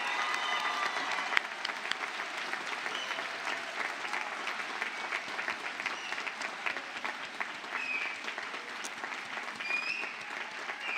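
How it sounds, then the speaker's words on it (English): Audience applauds 8th grade scholars at a school graduation ceremony, a fairly quiet but steady crackle of many hands clapping that continues for about eleven seconds, with a few faint cheers. "Let's give our 8th grade scholars a big round of applause."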